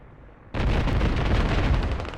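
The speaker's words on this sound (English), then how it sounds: "Oh, beautiful airstrike." A sudden heavy airstrike explosion in the Squad military shooter game, on the Yehorivka map, bursts in after a quiet moment and rumbles loudly and continuously to the end, with no voices over it.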